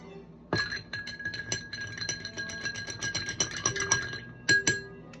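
A whiskey sour is stirred in a glass, a spoon ringing against it in quick, bright, continuous clinks, close and fairly quiet, with a few louder taps at the end.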